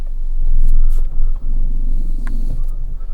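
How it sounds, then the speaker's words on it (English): A Fiat 500 engine idles steadily, a close, loud low rumble with a brief dip partway through and a faint clunk or two over it. "So the engine's running"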